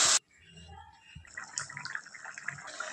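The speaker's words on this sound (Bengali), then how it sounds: "পরিমাণ হিসাবে জল দিলাম" Water is poured into a pan of amudi fish curry, a soft steady splashing and bubbling after a brief clatter, close by and moderately quiet.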